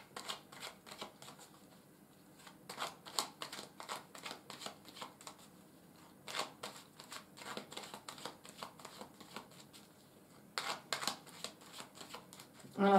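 Tarot cards are shuffled close by in quick papery riffles and bursts, faint and intermittent across the whole stretch with short pauses between.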